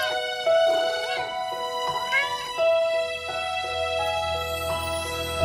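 Kitten meowing repeatedly, a series of clear high-pitched mews close by, some rising and drawn out, with short gaps between calls.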